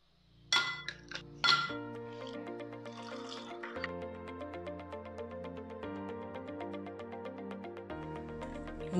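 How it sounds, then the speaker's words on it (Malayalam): Ice cubes drop into a glass of watermelon lemonade with a few bright, close clinks at the start, followed by steady background music. "ഐസ് ക്യൂബ് ഇട്ട് കൊടുക്കുന്നുണ്ട്."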